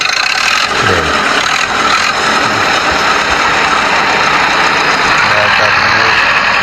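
An HMT 5911 tractor engine runs at a steady idle nearby, a continuous loud rumble with slight variations in pitch, while someone talks over it.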